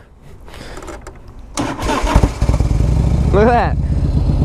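A 1991 Harley-Davidson FLHTP motorcycle engine cranks and fires up with the choke on, then settles into a loud, steady rumbling idle close by, with someone speaking briefly over it.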